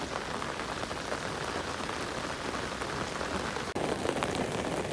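A downpour falls steadily on a village, continuous close patter and hiss of rain on surfaces, briefly dipping near the end before resuming, with no speech.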